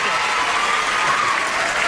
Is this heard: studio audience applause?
yes